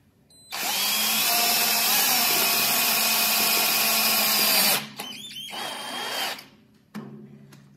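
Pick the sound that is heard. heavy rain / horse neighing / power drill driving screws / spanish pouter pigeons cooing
power drill driving screws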